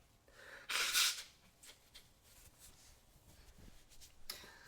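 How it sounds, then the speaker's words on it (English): A single sharp sneeze bursts out close to the microphone near the start, followed by quiet breathing and faint rustles in an otherwise hushed room. "Excuse me for the sneezing."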